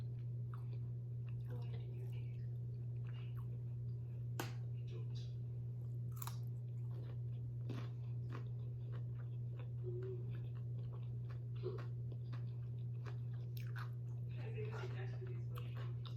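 Food being chewed and crunched during a mukbang eating show of sausage, cucumbers and rice: soft, close mouth noises, bites and crunches scattered throughout over a steady low hum, with no talking.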